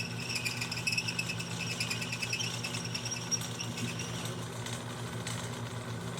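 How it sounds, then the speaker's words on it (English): A power saw runs with a steady buzzing whine as it cuts rubber shock bushings into thin misalignment spacers for a mini Jeep build. The tool sounds fairly close and quiet, with no talking over it. "we're gonna turn this thing on and cut it with a saw so it's nice and thin"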